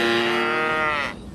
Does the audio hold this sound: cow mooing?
yes